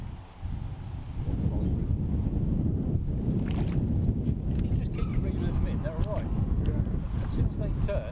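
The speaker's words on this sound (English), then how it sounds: "That wind there is still making what could be a really nice day just a little bit awkward." Wind gusts steadily across a carp fishing lake at Brehal, Normandy, making a low, continuous buffeting rumble on the microphone, with faint splashing sounds toward the end.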